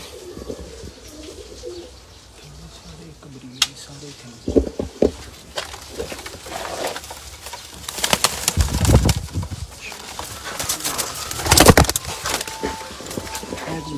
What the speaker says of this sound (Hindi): ये जी चंद कबूतर हैं जी सेठ वाले।